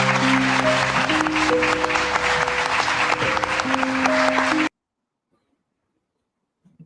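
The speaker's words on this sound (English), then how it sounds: "Them fake ass claps." Steady applause from a crowd in a played clip, with faint tones underneath, runs continuously and then cuts off abruptly into silence.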